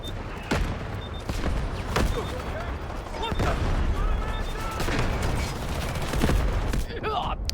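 A video game artillery barrage pounds away in a dense run of heavy booming explosions and crackling blasts, sustained and loud for several seconds.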